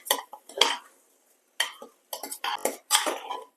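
A spoon scrapes and clanks against a pressure cooker as Kaima rice in water is stirred. The short metallic scraping strokes come in separate close bursts with brief silences between them and no talking.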